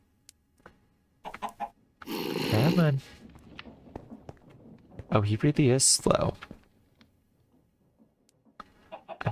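A Minecraft chicken clucks in short bursts in the Stoneblock 3 modpack, set against clicks and game noises while someone talks over it.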